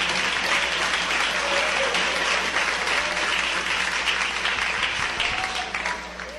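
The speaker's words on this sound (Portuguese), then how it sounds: "Pode assentar e bater as palmas para Ele bem forte, bem alegre" Church congregation clapping hard and joyfully together, a dense, steady wash of applause from many hands that holds loud throughout and tapers slightly at the end.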